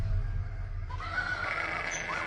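A donkey's neighing sound effect plays during a Portuguese audio Bible reading: a single brief whinny, moderately loud over a low background hum.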